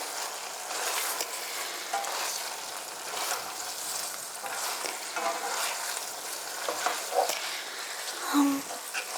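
Spaghetti stirred into tomato sauce in a hot pan, a soft continuous sizzle with scraping and squelching stir strokes throughout, close and gentle, with faint murmuring under it.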